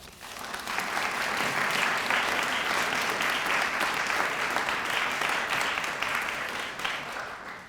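Sustained applause from a lecture audience welcoming a returning speaker, dense steady clapping that swells quickly and holds at an even level for several seconds before tapering slightly.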